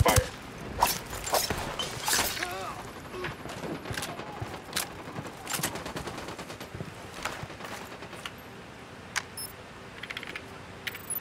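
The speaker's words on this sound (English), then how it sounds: "I'm opening fire." Gunshots and bursts of automatic fire crack through a firefight in Tom Clancy's Ghost Recon Wildlands, heavy at first and then thinning to scattered shots, with voices talking over the action.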